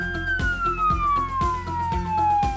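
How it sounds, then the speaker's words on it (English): A 100-watt single-tone emergency vehicle siren wailing as a long, slowly falling tone, with rapid pulsing bursts repeating underneath at a steady rhythm; loud and close, with no voices. "purchase a 100-watt single-tone siren"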